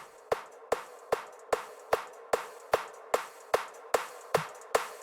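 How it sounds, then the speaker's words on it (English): A steady drum pattern of sharp, evenly spaced hits, about two per second, with a bright snappy attack and short decay, playing alone. "this drum pattern's coming in"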